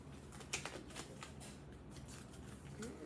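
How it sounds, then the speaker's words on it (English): Tarot cards being shuffled by hand, soft riffling and flicking bursts close by, faint and irregular over a low room hum. "Shuffle a little bit."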